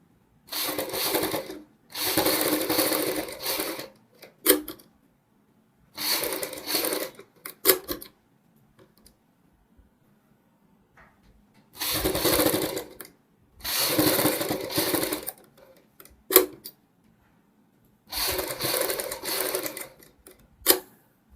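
A sewing machine runs in short bursts of rapid stitching as piping is sewn along a sleeve, each run separated by quiet pauses and an occasional click.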